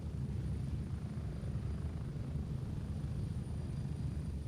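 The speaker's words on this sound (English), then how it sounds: "That blocks out our helicopter sounds pretty well." A video game helicopter's rotor drones steadily and faintly in the background, an even low thrum with no breaks.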